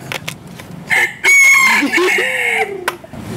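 A rooster crows loudly and close by, one long rising-then-falling cock-a-doodle-doo with some clucking, while people chatter briefly around it.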